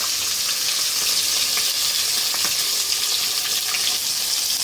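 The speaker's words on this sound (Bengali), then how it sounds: "হাই ফ্লেমে মাছটা কড়া করে একটু ভেজে নেব" Climbing perch (koi fish) fries in hot oil over a high flame, a loud, dense, continuous sizzle close to the pan with faint crackles throughout and no voices.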